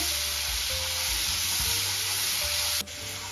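Onion paste sautéing in a pan for restaurant-style paneer masala gives a steady, close sizzle with a few soft stirring scrapes, and no talk over it.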